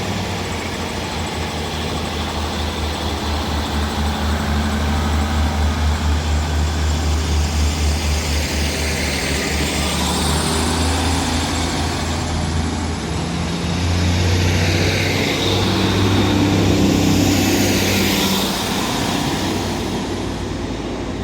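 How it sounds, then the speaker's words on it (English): A Northern Class 156 and Class 150 diesel multiple unit pair throbs and revs as it departs Rochdale station, a steady, loud mechanical drone that rises and swells over about twenty seconds. "This Northern 156 and 150 departs Rochdale now for Clitheroe with the 1321 service."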